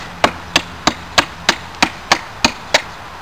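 A dulling knife chops into a wooden longbow stave, thinning it down: nine sharp, evenly spaced strikes about a third of a second apart, close and crisp with no talking.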